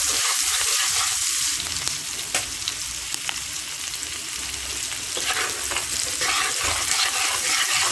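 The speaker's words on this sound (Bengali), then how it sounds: "ভালোভাবে কষে নেব পেঁয়াজটাকে।" Onions frying in oil with green chilies and five-spice, a strong hissing sizzle with frequent scrapes and clacks of stirring, close and continuous with no talk.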